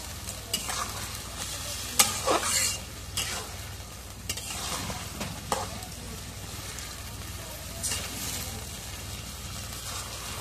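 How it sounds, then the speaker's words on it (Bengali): Meat being stirred into spice masala in a pan, a steady background sizzle broken by intermittent scraping and stirring strokes, moderately close with no talking. "মশলাটা এখন কষানি হচ্ছে, এখন মাংসটা দিই।"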